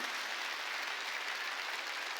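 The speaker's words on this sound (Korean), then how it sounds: "박수도 세게 치라니까 깨달았으면." A church congregation claps during a Wednesday worship sermon, a dense, even wash of applause holding steady throughout at moderate volume.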